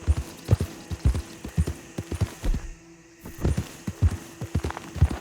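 A horse in Red Dead Redemption 2 pounds along in a fast, rhythmic run, heavy hoofbeats thudding close and loud, with a brief lull midway before the beat resumes.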